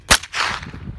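A single sharp gunshot cracks close and loud outdoors on a mountain, followed by a short rolling echo fading away.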